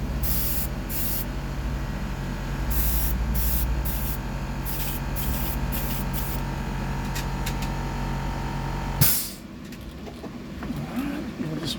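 Airbrush spray paint hisses steadily while a second coat goes onto a handmade fishing lure, with short bursts and pauses, close and fairly loud, stopping abruptly near the end before quieter room noise.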